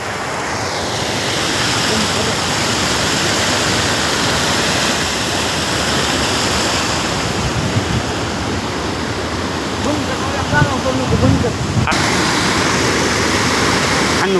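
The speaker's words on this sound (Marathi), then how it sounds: "गावाकडल्या नदीचा नजारा बघा" A village river flows steadily, a dense, continuous rush of moving water that stays loud and even throughout, with a brief bump of louder splashing near the end.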